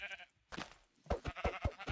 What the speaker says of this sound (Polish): Owce.